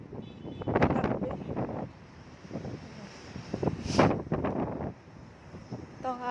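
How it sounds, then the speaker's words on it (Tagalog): Cold wind buffets the microphone outdoors in gusty, uneven bursts while a person talks over it. "Hangin, malamig."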